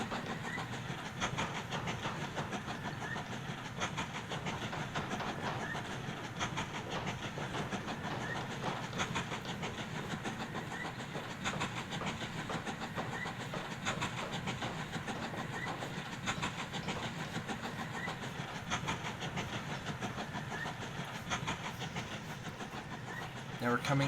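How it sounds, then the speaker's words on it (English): A train runs along the tracks through turns in the railway-building game Mashinky, a faint, steady rolling rumble with soft hissing and clicks that continues throughout. "I always think it's cool to watch the train go around like turns and stuff."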